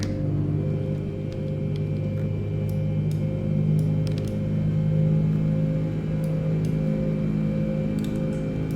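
Boeing 787 engines idling in a Horizon Sim flight simulator, a steady low rumble and hum with layered tonal whine, sustained and fairly loud, with a few faint clicks above it.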